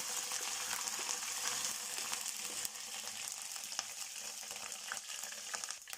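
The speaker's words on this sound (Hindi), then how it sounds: "अब इसमें हम ऐड करेंगे 1/2 टेबल स्पून गार्लिक पेस्ट, प्याज, इसको अच्छे से हम रोस्ट कर लेंगे" Garlic paste and onion roast in a hot pan, giving a constant bright sizzle and crackle with occasional clicks and scrapes from stirring, close and unbroken throughout.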